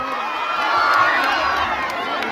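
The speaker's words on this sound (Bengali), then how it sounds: "সবাইকে বলবো জোরে জোরে করতালি হোক" A large crowd at a local event on the Garia Kali Bazar complex grounds in Kolkata cheers and applauds in a loud, sustained roar that holds steady for a couple of seconds and cuts off abruptly at the end.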